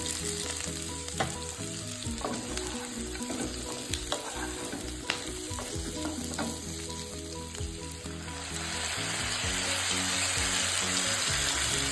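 Chicken pieces lightly frying in a pan for chilli chicken, a steady close sizzle with scattered crackles and stirring scrapes that swells louder near the end.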